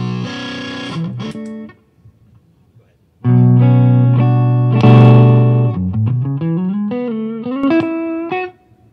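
Electric guitar played through an Egnater boost and overdrive pedal, a few driven chords and a bend, a brief pause, then louder overdriven chords and sliding notes ringing out.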